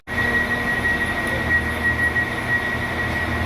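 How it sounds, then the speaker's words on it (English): A train pulls away from the platform at Moseley Village station on the Camp Hill Line, a loud, steady rumble with a high whine throughout, close by. "let's watch this train depart"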